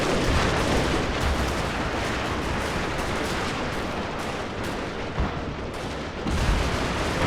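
A large-scale video game battle rattles with continuous dense gunfire and heavy artillery booms, with sustained Gatling-style bursts and scattered thumps, loud and chaotic throughout.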